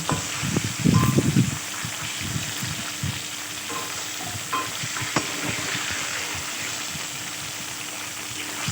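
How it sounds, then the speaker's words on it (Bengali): Katla fish sizzles and crackles steadily as it fries in mustard oil in a pan, with a few clattering stirs near the start, close and fairly loud. "কড়াইতে সর্ষের তেল দিয়ে একটু হলুদ ছিটিয়ে আমি মাছটাকে প্রথমে ভেজে নেব"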